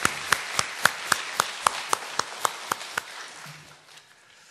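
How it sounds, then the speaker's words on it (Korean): A church congregation clapping in encouragement for missionaries, a sparse, slow run of about a dozen separate hand claps in a steady rhythm that thins out and stops, with no talking. "우리 사역을 위해서 격려의 박수, 잠깐 일어나서 인사할 때 격려의 박수 보내드리겠습니다"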